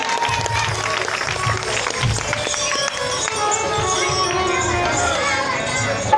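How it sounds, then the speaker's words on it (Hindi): Steady, dense applause from the audience at an outdoor Ramlila stage performance in Chachaura, Guna district, Madhya Pradesh, filling the whole stretch with crowd noise underneath. "गौरव परेला जी के लिए एक बार जोरदार तालियां हो जाएं।"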